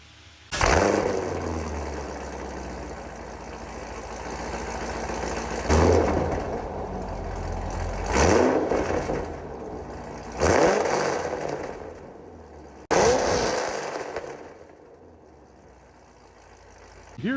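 A Ford Mustang fitted with cheap long-tube headers barks through a series of sharp, loud revs from idle, four or five abrupt blips each settling back into a choppy, rumbling idle, recorded close up without speech.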